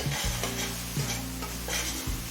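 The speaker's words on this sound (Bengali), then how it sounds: "জল দিয়ে নাড়াচাড়া করে মশলাটা মিশিয়ে নিয়েছি" Spice paste with cumin powder and water stirred in a pan for bhangan fish curry, repeated scraping strokes of a spatula over a steady sizzle, close and clear.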